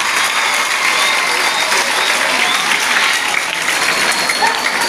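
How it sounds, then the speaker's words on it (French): A crowd gives loud, sustained applause at a school launch event in Kinshasa, cheering local officials as they stand. The dense clapping is continuous and fills the room, with no pauses. "applaudissez très fort"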